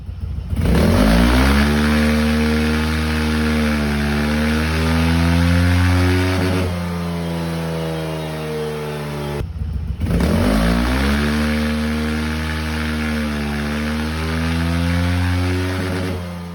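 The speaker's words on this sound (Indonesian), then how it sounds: "Kita lakukan penyetingan ECU dan juga dyno test." A bored-up Honda ADV scooter engine revs hard on a dyno during ECU tuning. The pitch sweeps up and down in long, steady pulls, cuts out briefly, then climbs again, loud and continuous throughout.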